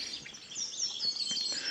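A wren sings in a park during the dawn chorus, with rapid high trills and chirps that carry clearly at moderate volume over a quiet background, and no one talks.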